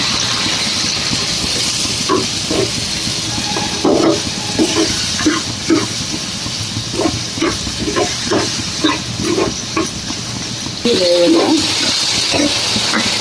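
A soya grits mixture fries in a hot pan at home, giving a loud, steady hiss with scattered crackles and pops throughout and no voices.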